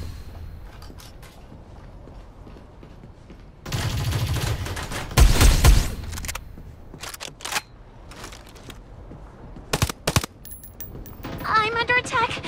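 Video game gunfire in the battle-royale shooter Farlight 84: bursts of shots and impacts come in a dense loud cluster, then scattered single cracks and short volleys amid background game noise.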